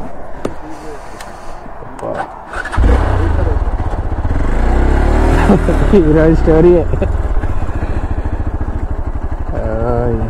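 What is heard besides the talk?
damaged motorcycle engine making odd noise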